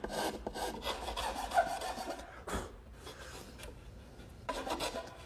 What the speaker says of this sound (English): I'm going to even those out using my rasp.